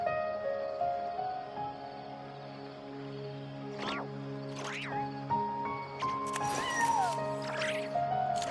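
A cat meows a few times in the video game Genshin Impact, short rising and falling cries over a steady musical background with soft ambient tones.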